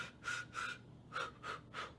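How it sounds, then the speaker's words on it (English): Staccato, Lamaze-style breathing exercise: six short, breathy puffs in a steady quick rhythm, close and fairly quiet, with no talking. "I do want your breaths staccato, coming in and going out"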